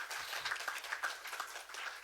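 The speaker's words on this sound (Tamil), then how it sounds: "கைதட்டுங்கப்பா அவருக்கு." An audience at a stage talk applauds a man introduced from the crowd, a soft, fairly distant patter of many hands clapping steadily throughout.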